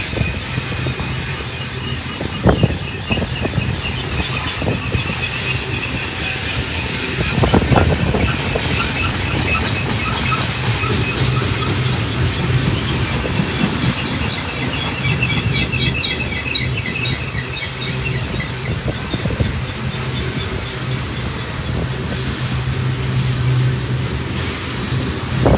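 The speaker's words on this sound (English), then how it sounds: "Awesome freight train." A long Union Pacific mixed manifest freight train of gondolas and hopper cars, hauled by seven locomotives, rumbles past close by with continuous wheel noise, periodic clanks and clicks over rail joints, and faint birdsong behind.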